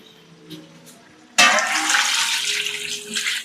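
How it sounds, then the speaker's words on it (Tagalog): Water pours into a cooking pan holding a soy sauce and chili mixture, starting abruptly as a steady, close splashing rush after a quiet moment with faint kitchen sounds. "Maglagay tayong tubig."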